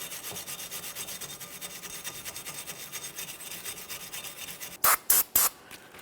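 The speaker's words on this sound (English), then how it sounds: "Now that I got this sanded down" Sanding a wheel bearing hub on a 2014-2019 Toyota Corolla during rear brake work makes a soft, steady rhythmic rubbing. Three sharp, louder scraping strokes close in near the end.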